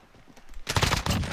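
M4A1 rifle in the Modern Warfare video game firing a rapid, loud burst of automatic shots that starts abruptly after a quieter moment and carries on steadily to the end.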